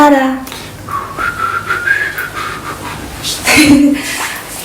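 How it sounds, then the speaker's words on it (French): A person whistles a wavering, rising tone for a couple of seconds, with voices talking before and after and a short chuckle-like sound near the end. "Il siffle."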